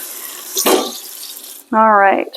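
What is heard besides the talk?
rinsing cooked lentils under hot tap water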